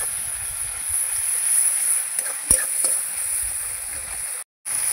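Spice mix with turmeric is stirred in a pan, a low steady sizzle with a few scraping knocks of the spoon and a faint hiss, close by and fairly quiet.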